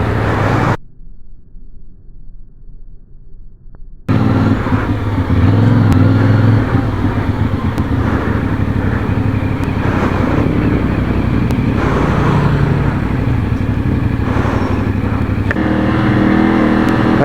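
A CFMoto 450NK motorcycle engine runs steadily during its break-in period, held in a moderate rev range on a Manila street ride, with constant drone and road noise after a brief quiet start.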